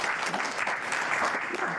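Audience at a comedy show clapping hands, a dense, steady wash of applause filling the whole moment with no break.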